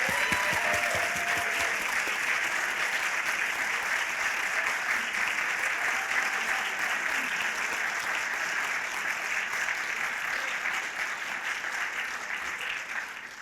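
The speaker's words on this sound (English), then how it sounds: "let's give everyone a huge round of applause" Sustained, dense applause from an audience for venture competition finalists gathered on stage, steady and full for over thirteen seconds, tapering slightly at the end, with faint voices in the crowd.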